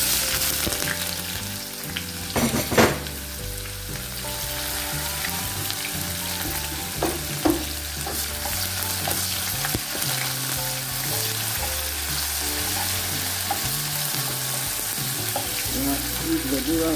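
Salted onions fry in a pan for a quick vegetable sauce, a steady close sizzle with intermittent clinks and scraping of stirring, a louder clatter early on, and a faint background hum.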